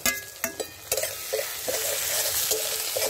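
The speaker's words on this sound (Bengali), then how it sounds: "এবার আমি এটা আদা রসুন বাটা দিয়ে দিলাম।" Ginger-garlic paste frying in a pan for a Bengali egg curry, a continuous sizzle broken by repeated scraping strokes of a spatula stirring, close and fairly quiet.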